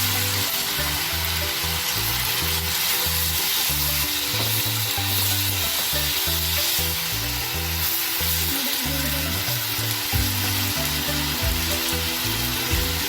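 Hyderabadi paneer masala with onions and tomatoes cooks in a pan, giving a loud, unbroken sizzle and bubbling. A choppy low rumble runs underneath, and the cooking goes on without speech.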